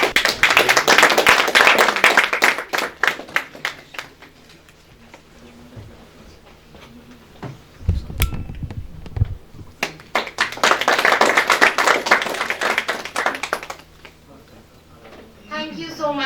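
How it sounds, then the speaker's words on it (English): Audience clapping for the chief guest at a formal function on rural farming livelihoods in Kashmir, two bursts of many hands, one at the start and one later, separated by a quieter stretch with a thud and talk. "can we have a huge round of applause?"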